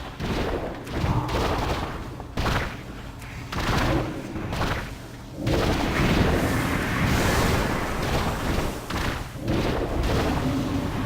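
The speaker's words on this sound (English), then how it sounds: "Behold, the VX-001 Anti-Personnel Assault Cannon! You might want to take cover." The VX-001 Anti-Personnel Assault Cannon fires in World of Warcraft, a continuous barrage of heavy, booming blasts and thuds that stays loud throughout.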